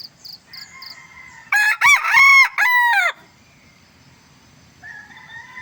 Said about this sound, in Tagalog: pinapakinggan ko yung mga tilaok ng manok dito